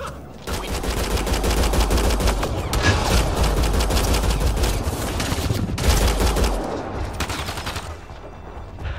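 Heavy, sustained gunfire in Mass Effect Andromeda rattles close and loud, with rapid bursts layered into a dense fusillade that barely lets up for the whole stretch.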